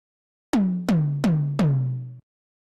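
Four evenly spaced strikes of a synthesized tom drum, crunchy with analog-style distortion, each with a bright snappy attack and a deep sustained boom that decays into the next, then stops abruptly; no talking.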